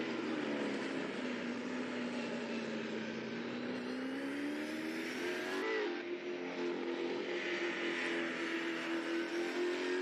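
Engines of virtual race cars in the NZ SuperLap sim racing game at Lukey Heights, a steady loud droning whine rising in pitch as one car draws alongside and passes another, continuous with no talk.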